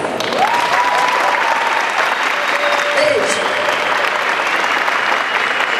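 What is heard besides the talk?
audience applause after a talk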